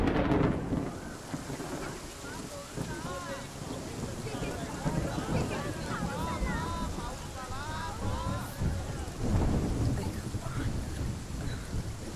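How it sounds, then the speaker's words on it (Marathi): Heavy rain pours down in a Marathi film scene, a steady hiss broken by low rumbles of thunder, with voices heard over the downpour. "अगं बघ पाऊस किती जोरात पडतोय."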